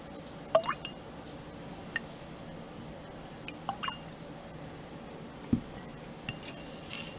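A spoon stirs baking soda dissolved in tap water in a small glass, making a few sparse, quiet clinks and scrapes against the glass with faint liquid sounds between them.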